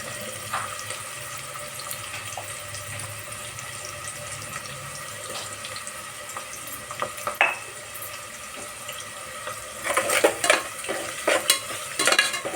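Food frying in oil in a pan gives a continuous sizzle with scraping and stirring clatter, growing busier and louder with sharp bursts toward the end; no one speaks.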